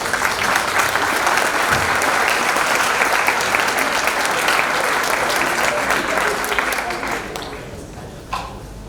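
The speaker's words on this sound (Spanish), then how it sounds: "Les damos un fuerte aplauso." Sustained audience applause for a speaker at a university communication strategy conference, dense and loud clapping that holds steady for several seconds, then thins and fades away.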